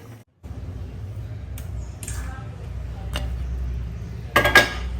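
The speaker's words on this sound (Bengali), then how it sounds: "ব্যাস তারপরে ঢাকনা দিয়ে দেবো" A lid set down on a cooking pot of chicken biryani gives a couple of close metallic clinks after light taps of utensils, with a person talking throughout.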